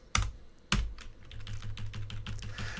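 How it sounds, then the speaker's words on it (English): Rapid keystrokes on a computer keyboard while coding a simple Pygame game, opening with two sharp taps and then a steady run of close, clicky presses with no talking. "why do I keep typing a comma here?"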